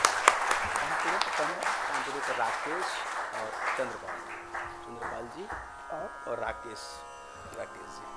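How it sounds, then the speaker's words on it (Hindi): Audience applause at an evening Hindustani classical vocal concert, a steady wash of clapping that gradually thins, with a voice speaking over it. "तालियां बजाया कीजिए।"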